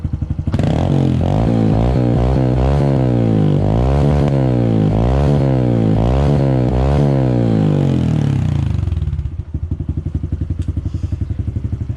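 A Honda CT125 motorcycle engine revs hard through a new, larger-bore aftermarket exhaust, loud and close, rising and falling in repeated throttle blips before settling to a steady idle.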